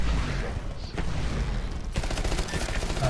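Rapid RE45 auto pistol fire in the game Titanfall on the Boneyard map, a dense continuous burst of shots over game noise, loud and close with a brief dip before firing resumes.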